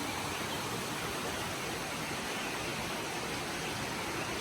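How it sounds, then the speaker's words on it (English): Steady broadband rush of a waterfall and running water near a resort in Oudomxay, Laos, a continuous even roar with no pauses and no voices. "It's nice to hear the waterfall. I mean the water running and of course the waterfall way above"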